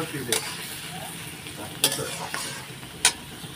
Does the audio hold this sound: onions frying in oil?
yes